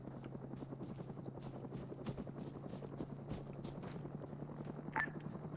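A helicopter in the military video game Arma 3 gives off a steady, rapid rotor thudding at moderate distance, a low chopping pulse held throughout, with a brief faint blip near the end.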